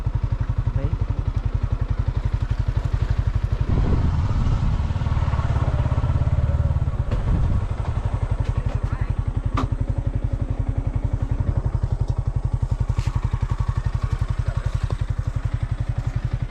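A motorcycle engine thrums steadily throughout, a rapid chugging pulse heard up close while riding in Goa, with occasional clattering bumps and brief changes in engine load.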